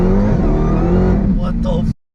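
A 1,000whp Dodge Hellcat accelerates hard from inside the cabin, its engine a loud, dense roar that climbs steadily before cutting off abruptly, with voices heard beneath it.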